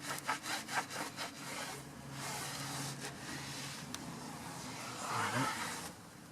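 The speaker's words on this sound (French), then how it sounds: "Et une fois que c'est bien essuyé, vous attendez 5-10 minutes que le pneu sèche bien." A cloth wipes a car tyre dry, making a few quick rubbing strokes at first and then a longer, steady scrubbing swish, close and moderately loud.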